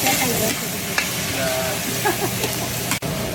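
Onions fry in cooking oil with a dense, steady sizzle. A spatula scrapes and stirs the pan, and there is a sharp clack near the end. No one speaks.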